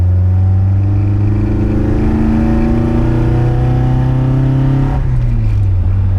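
A 1986 Toyota AE86 engine with open throttles revs hard with a rising, raspy induction roar and climbing pitch, then the note drops abruptly as the throttle eases.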